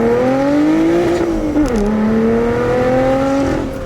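A Lotus Evora GT's engine drones steadily, then dips sharply as it brakes into a corner before climbing again under power, its note loud and close throughout.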